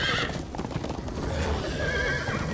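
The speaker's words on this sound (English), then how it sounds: "Horsey! Everybody, get on!" Horse in the video game Minecraft Story Mode whinnies loudly while hooves clip-clop steadily throughout, with game noise underneath.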